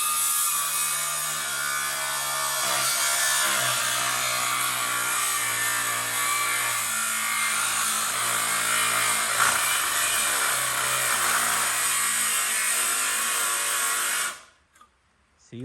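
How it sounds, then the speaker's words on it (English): A battery-operated angle grinder cuts under heavy pressure in a garage, a loud, steady, high-pitched whine with a grinding rasp that holds for about fourteen seconds and then cuts off abruptly. "He is putting too much pressure on a battery-operated grinder."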